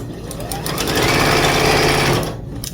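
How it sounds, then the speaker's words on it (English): Up close, a sewing machine joins fabric strips end to end for a quilt, its motor whirring up to a loud, steady stitching drone for about two seconds before slowing and stopping. "I'm just gonna be sewing my strips end to end to end to end."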